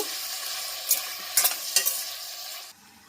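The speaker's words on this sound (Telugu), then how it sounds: "ఆయిల్లో ఫ్రై చేసుకొని పక్కన పెట్టుకుందాం అనమాట ఆయిల్ యాడ్ చేస్తున్నానండి కొంచెం ఇది మాడిపోకుండా మధ్య మధ్యలో కలుపుదామండి" Ivy gourd frying in hot oil in a pan, a close, steady sizzle broken by a few sharp scraping stirs of a spoon in the middle, the frying fading abruptly near the end.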